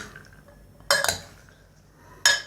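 Spoon clinks against a bowl while onions are stirred into chana chaat, with two distinct bursts of metallic clatter separated by quiet.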